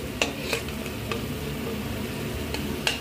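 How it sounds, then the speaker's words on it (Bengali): Onion paste fries lightly in a pan for a pomfret fish curry, a soft continuous sizzle broken by a few sharp clicks from a stirring spoon, with no one talking. "পেঁয়াজের কাঁচা গন্ধটা যাতে চলে যায় তাই পেঁয়াজটা একটু হালকা ভেজে নিচ্ছি।"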